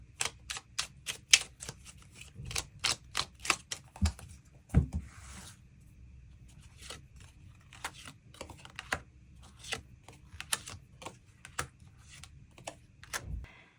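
Tarot cards are shuffled and drawn on a table, giving a series of crisp, irregular snapping clicks up close, with short pauses between bursts and no voices.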